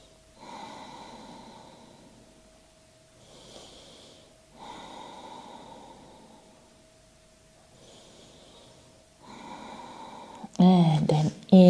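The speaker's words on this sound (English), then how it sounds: "Take a few deep breaths here." Slow deep breaths during a hatha yoga shoulder stretch, four long airy inhale-exhale cycles spaced evenly and heard up close in a quiet room, ending in a short louder rustle.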